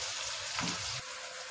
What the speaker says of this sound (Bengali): পেঁয়াজটা ভাজা হচ্ছে, হালকা লাল লাল হয়েছে